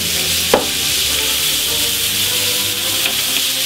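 Shrimp sizzle steadily on a hot plancha griddle, a loud, continuous close-up hiss with a brief scrape or clack early on and another faint one near the end, with no talk.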